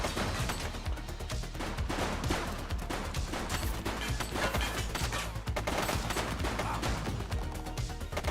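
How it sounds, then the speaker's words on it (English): Rapid gunfire from a police shootout in The Precinct video game, continuous overlapping bursts of shots and automatic fire at a steady, fairly loud level throughout, with no talking. "He's shooting!"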